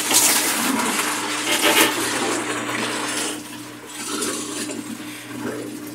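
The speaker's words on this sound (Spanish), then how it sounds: "Y ya está sacando el agua." Steady rush of water as a Whirlpool semi-digital washing machine drains, a continuous hissing wash with a low hum underneath, fairly close and unbroken throughout.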